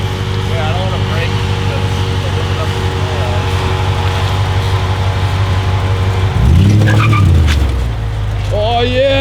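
The Gambler E38 build car drives with a steady engine drone, then a sharp rising tire squeal and skid near the end as the wheels spin for traction.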